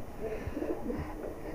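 A female high-flyer pigeon at a Bhopal sale coos softly and close by, giving a few low, throaty rolling notes over a muffled background.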